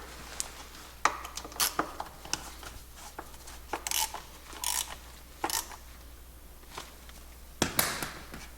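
Ratchet driving seat mounting bolts into soft aluminum threads while fitting Corbeau SXS Pro seats to a Polaris RZR, heard as short bursts of ratcheting clicks spread unevenly across the clip with quiet gaps between, close and fairly clear.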